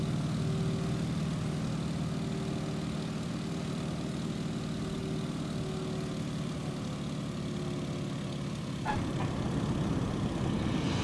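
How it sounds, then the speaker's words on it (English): An aircraft engine idles after landing in Microsoft Flight, a steady low propeller drone with a faint hum that holds throughout, shifting slightly near the end, with no speech. "Go ahead and pull the throttle to idle."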